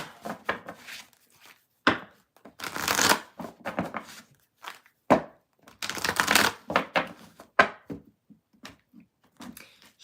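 Tarot cards being shuffled in repeated riffling bursts, each a short crisp rustle separated by pauses, close and alone with no talk.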